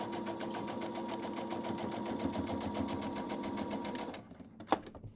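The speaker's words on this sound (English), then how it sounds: "We'll get that sewn down." A sewing machine stitching fabric, a rapid, even mechanical chatter of needle strokes that runs steadily for about four seconds, then stops, leaving a couple of faint clicks.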